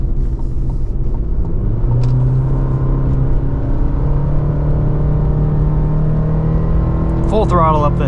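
A GMC Canyon AT4X AEV Edition pickup (2024) pulls hard at full throttle up a hill while towing, a steady low engine drone and rumble rising in pitch, with a voice talking over it.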